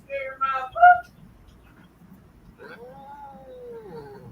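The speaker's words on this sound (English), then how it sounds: "Colin, you're scaring this poor kitty cat." A frightened cat yowls and caterwauls in a few loud, wavering cries, then a long drawn-out moan, close by over faint background noise.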